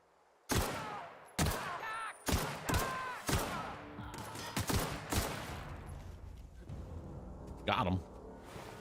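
Gunfire in the video game The Outer Worlds: about eight sharp, loud shots in an irregular burst, each followed by a short ringing tail, with a voice speaking over the later part.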